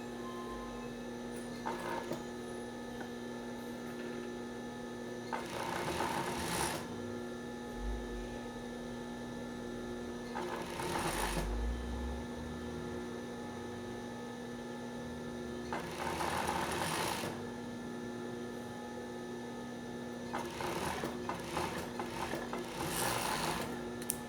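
Sewing machine stitching a folded-over elastic onto a swimsuit, running in several short bursts of a few seconds each, separated by pauses with low steady mains hum in the background.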